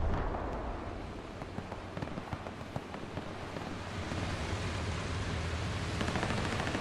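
Gunfire fills a 30 vs 30 multiplayer shooter match on the Kharkov map, with scattered distant shots and cracks over a dense rumbling battle din that never lets up.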